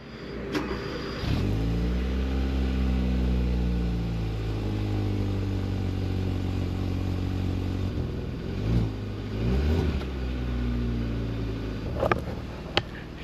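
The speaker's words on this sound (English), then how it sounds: "we're gonna get a cold start up on this thing. Let's see how it sounds" A car engine cold-starts after catalytic converter work: a brief crank catches at once, then settles into a steady, close idle with a rich low hum and a few small blips near the end.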